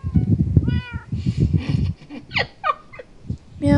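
A player in a Minecraft hide and seek game imitates a cat with a voice, giving several loud, close meows in quick succession, with a short stretch of lower vocal noise before them.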